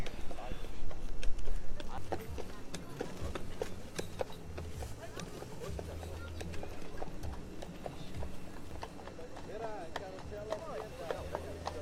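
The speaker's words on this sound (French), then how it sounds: "moi je pourrais passer des heures à regarder passer les chevaux" Horses' hooves clip-clopping steadily on pavement in Central Park, New York, a continuous rhythmic clatter of several animals passing at moderate distance under general park ambience.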